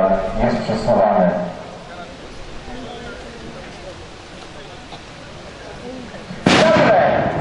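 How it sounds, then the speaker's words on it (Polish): A loud artillery shell blast opens, followed by a quieter stretch of rumbling, then another sharp, heavy shell detonation near the end; voices appear briefly amid the blasts. "Wybuchają pociski wokół powstańców."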